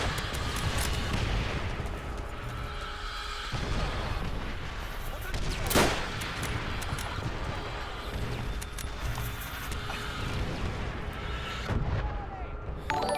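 Battlefield artillery in Call of Duty: WW2 rumbling low and muffled throughout, with one sharp blast standing out, while a voice talks over it.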